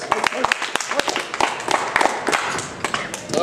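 An open-mic audience at a BGSU poetry night applauds and claps briefly, with sharp hand claps mixed with voices and thumps nearby.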